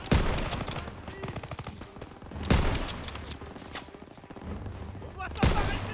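Machine-gun fire in the video game Call of Duty WWII, inside a factory battle: loud rapid bursts of gunshots with three heavy blasts standing out, continuous rattling between them.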